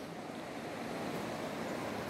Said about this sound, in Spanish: aquí estoy en el río La Plata